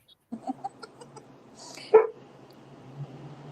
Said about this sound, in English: That's who you hear barking.